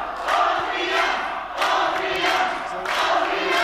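A crowd at a live wrestling show cheers and shouts in loud, sustained waves, swelling near the start, middle and end of the stretch.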